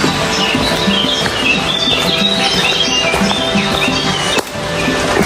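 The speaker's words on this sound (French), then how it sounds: "un sous-bois avec les oiseaux qui chantent" Birdsong and chirps fill a shaded woodland understory near the blue waters of Tavers, a steady, busy layer of calls with a brief dip near the end and no talk.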